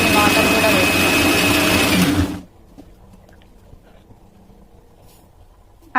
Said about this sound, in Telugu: ఇప్పుడు ఇందులోకి వేయించుకున్న ఆనియన్స్ని కూడా ఇందులో వేసి మిక్సీ పట్టుకోండి